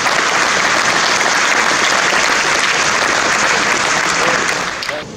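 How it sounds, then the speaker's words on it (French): Sustained applause from the audience at the opening of a chess championship in Nîmes, honouring a veteran player; dense, even clapping fills the whole stretch and tapers slightly at the end. "On demande de l'applaudir aussi"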